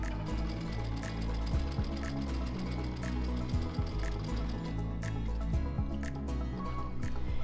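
A sewing machine runs a small, tight zigzag applique stitch with a size 75 embroidery needle, humming steadily and continuously up close with rapid repetitive needle ticks throughout.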